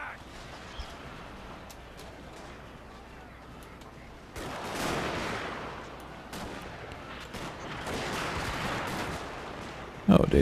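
Suppression gunfire in Total War Shogun 2: Fall of the Samurai rattles as a continuous crackle of distant volleys, swelling louder in the second half, under battle ambience with some voices.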